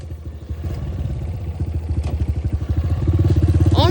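Two-stroke dirt bike engine running close by, a rapid low clattering pulse that climbs in pitch and loudness near the end as the rider opens the throttle for the power band.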